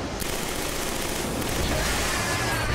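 Machine gun fire in the video game Killzone 3, a dense continuous rattle of rapid shots filling the whole stretch, loud and steady with no pause.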